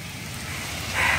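A sudden heavy downpour makes a dense, steady hiss that grows slightly louder over a brief moment, with no voices over it.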